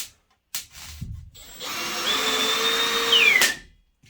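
A power drill whirs steadily for a couple of seconds, driving a screw into styrofoam, its pitch shifting as the screw bites in, after a few short handling knocks.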